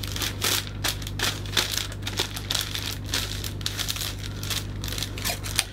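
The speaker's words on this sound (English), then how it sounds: "then you can just work around to control the cellophane" Cellophane is crinkled and worked around a vase with close, continuous crackling and rustling in uneven bursts over a steady low hum.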